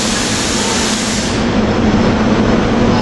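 Fox Chase Silverliner 5 commuter train creeping into 30th Street Station, a loud continuous rumble with a low hum, close and steady throughout.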